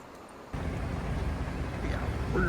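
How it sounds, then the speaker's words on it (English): A tram running under overhead wires in the Takahata Fudoson area of greater Tokyo rumbles past close by as a steady, loud broadband roar, with a faint rising squeal near the end. "this is actually like the actual tram, which is what I just came on"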